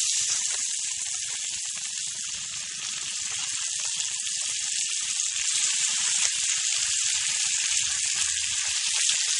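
Floured pieces of squirrel meat for Brunswick stew fry in hot oil with a steady, bright sizzle and crackle, close and continuous throughout with no talking.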